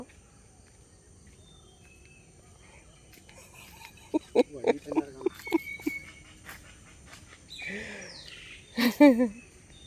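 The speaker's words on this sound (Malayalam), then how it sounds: "കിളികൾ വിളിക്കുന്നുണ്ട്" Birds call outdoors in a garden plot prepared for planting elephant foot yam, with a quiet ambient bed broken by a burst of short chirps midway and a louder cluster of calls near the end.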